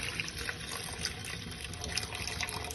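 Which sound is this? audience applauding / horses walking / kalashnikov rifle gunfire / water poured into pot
water poured into pot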